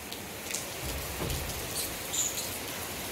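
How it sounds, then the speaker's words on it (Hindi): Steady rain patters down, a soft continuous hiss with occasional nearby drips and no one speaking. "मस्त बारिश हो रही है यार"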